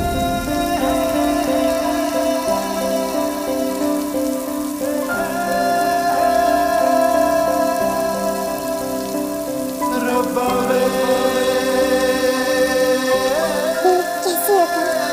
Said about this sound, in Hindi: अरे ये बारिश भी।